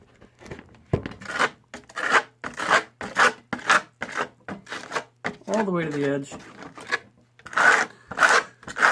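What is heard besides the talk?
trowel scraping sand aggregate coating for faux hammered copper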